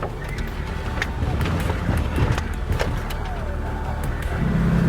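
A vehicle drives off-road through a jungle storm, its engine and tyres rumbling steadily while rain and wind noise wash over the cabin, with occasional knocks and splashes throughout.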